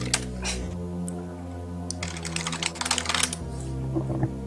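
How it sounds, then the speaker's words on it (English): Rapid clacking on a computer keyboard comes in an irregular flurry of keystrokes, near and fairly quiet, growing busiest in the middle before tapering to a few last taps, with a steady hum underneath. "Sorry about the keyboard, I kind of forgot."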